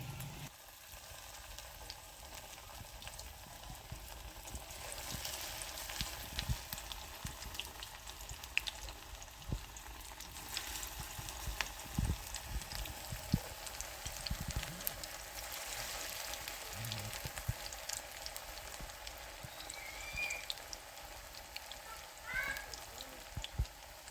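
Mustard flower fritters (bora) frying in hot oil, giving a steady, fairly quiet sizzle and crackle throughout with occasional faint clinks and no one talking.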